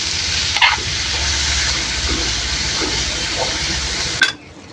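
Banana flower fry being stirred in hot oil with salt and turmeric: a steady close sizzle with soft scraping strokes, a couple of sharper clanks near the start and end, no voices.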